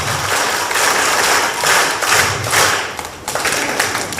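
Children in the audience at a Kannada poetry gathering clap loudly in dense, uneven bursts, with scattered thumps and slaps rising and falling throughout, continuous and close.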